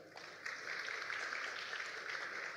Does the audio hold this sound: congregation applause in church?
yes